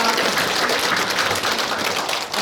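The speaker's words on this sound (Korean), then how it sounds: "큰 박수 부탁드리겠습니다" An audience claps steadily at a Buddhist temple dharma gathering, a dense, even patter of applause lasting a couple of seconds with no voices over it.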